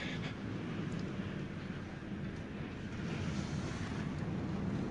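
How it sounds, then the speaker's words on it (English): Raging ocean surf whipped by strong wind, roaring as a steady, dense wash of breaking waves with constant wind buffeting close to the microphone, no voices. "the raging ocean"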